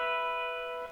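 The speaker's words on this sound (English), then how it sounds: "And then you do the harmonic." A single bell-like guitar harmonic rings out clearly, its pure overtones sustaining evenly and fading slightly toward the end.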